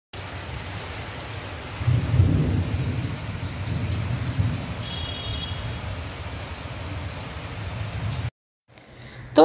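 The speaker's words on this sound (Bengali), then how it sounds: "মেঘ ডাকছে বেশি, যত না বৃষ্টি হচ্ছে।" Thunder rumbling through steady rain, with a deep roll of thunder swelling near the start over a constant hiss of rainfall, fairly close and loud, and no talk.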